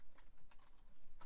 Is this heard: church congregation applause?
no